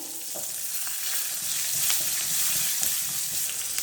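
Onions and green chillies frying in hot oil with fenugreek and asafoetida for a drumstick-leaf kuzhambu, a steady close sizzle with a few stirring scrapes, alone without talk.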